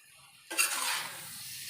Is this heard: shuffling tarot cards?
no